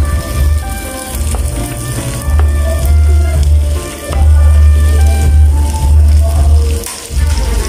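Potatoes frying with fish, chili and salt in a pan, a steady loud sizzle with low rumbling bursts and occasional stirring clatter throughout.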